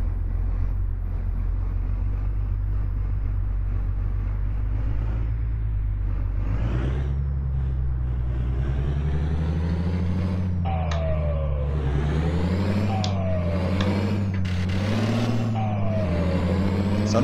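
Simulated Volkswagen 24-280 truck in Euro Truck Simulator 2, loaded, rolling on steadily with a low continuous engine drone, then repeated rises in engine pitch as it shifts gears, with faint air-brake hiss and clicks.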